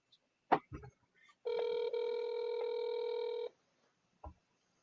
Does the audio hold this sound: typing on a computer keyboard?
no